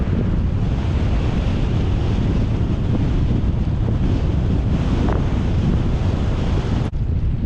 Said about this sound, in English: Keep fighting this headwind, y'all.